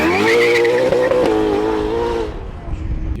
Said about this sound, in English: And you actually hear the ferocious Ferrari sound.